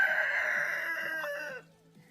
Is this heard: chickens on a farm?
yes